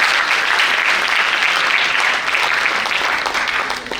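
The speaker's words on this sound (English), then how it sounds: "Give them a big applause." A large audience at a school annual day event breaks into loud, sustained applause, a dense wash of clapping that holds steady before tapering off.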